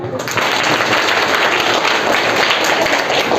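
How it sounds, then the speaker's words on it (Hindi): Schoolchildren clapping together in a government school classroom, a loud, dense burst of applause sustained for a few seconds close by. "बच्चों को ताली बजा दो एक बार।"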